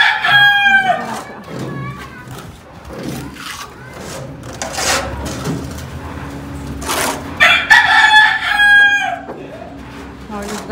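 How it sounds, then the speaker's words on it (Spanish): Roosters crow loudly and close by at a rural spot, with one long cock-a-doodle-doo at the start and another near the end, over faint background rustling. "Ahora los gallos presentes,"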